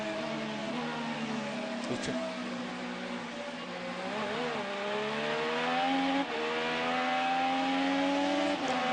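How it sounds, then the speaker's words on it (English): An IndyCar race car at the 2012 Honda Indy 200 at Mid-Ohio passes with its engine misfiring. It makes a loud, continuous engine drone whose pitch wavers and shifts unevenly, with no talking. "You could hear it was off song. It sounds like it's a misfire."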